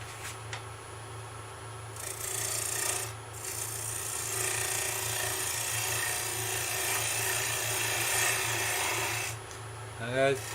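A tea light blank being faced off on a wood lathe makes a sustained scraping rasp as the tool cuts, steady for several seconds with brief pauses, over the low hum of the spinning lathe motor.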